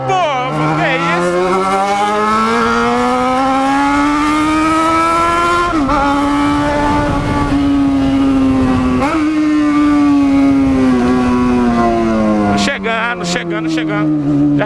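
Yamaha XJ6 motorcycle ridden with a passenger near a lake, loud steady engine drone rising and falling in pitch through gear changes, with the rider talking over the wind and engine noise.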